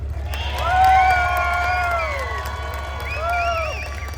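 At an outdoor tank show at the Ontario Regiment Museum, an audience cheers, whoops and hollers, with rising and falling shouts over a steady low rumble.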